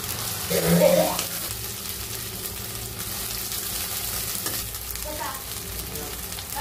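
Onion, green chili and garlic frying in a pan with peanuts, giving a steady loud sizzle with a brief louder burst as the ingredients go in, then stirring noises.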